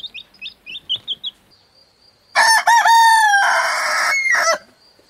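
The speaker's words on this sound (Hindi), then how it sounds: "अब आप मुर्गियों की आवाज भी सुने" Chickens cluck and chirp in short bursts, then a rooster lets out a loud, drawn-out crow close by, with no voices present.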